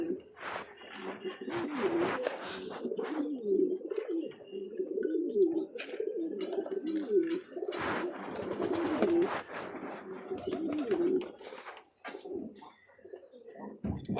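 A pair of caged pigeons cooing repeatedly in low, throaty, rolling calls, close by and continuous, with faint background noises between the coos.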